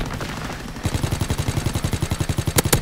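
Rapid automatic gunfire from a PS4 shooter game rattles in a fast, even stream of loud close bursts, starting after a brief lead-in of muffled noise.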